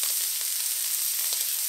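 Thin slices of pork loin frying in a pan with just a little oil, a steady bright sizzle filling the whole stretch, close and fairly loud, with no talking.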